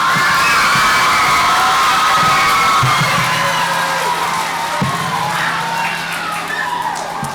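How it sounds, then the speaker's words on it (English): Children cheering, shouting and whooping in a crowd at an elementary school Student of the Month assembly, a loud, sustained roar of young voices with some applause mixed in and a few sharper shrieks. "Let's give our May Students of the Month a round of applause."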